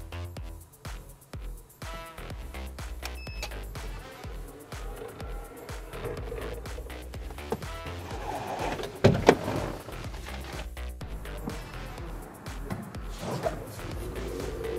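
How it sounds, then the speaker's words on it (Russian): Phoenix electric door drive on an IVECO minibus running through repeated whirring motor cycles, with a louder mechanical clunk of the door and linkage partway through, close by and without talk. "Это хорошо известный уже многим электропривод Феникс"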